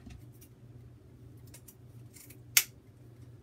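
Scissors trimming craft material for a rail wreath, a single sharp snip standing out from quiet room tone, with faint low traffic-like hum underneath and a few soft rustles.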